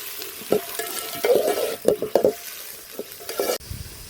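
Onions and green chillies fry in a pan for a homestyle chicken curry, stirred with uneven bursts of scraping over a constant close sizzle. Brief spoon knocks punctuate the hiss, and no one speaks.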